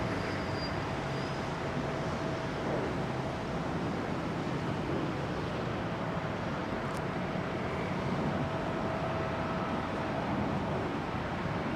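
A Pratt & Whitney powered aircraft arriving at London Heathrow on runway 27R produces a continuous, steady engine roar with wind-like broadband noise that holds at a fairly even loudness throughout.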